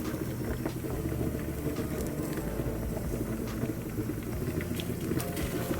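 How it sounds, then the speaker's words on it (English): Water in a pot on the stove comes to a boil, giving a steady close bubbling and seething hiss that holds evenly throughout with no voices. "Just started boiling."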